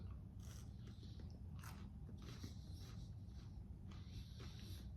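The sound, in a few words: biting into orange-flavored chocolate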